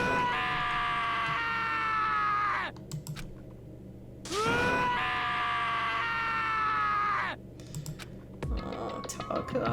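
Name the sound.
character screaming in Danganronpa: Trigger Happy Havoc video game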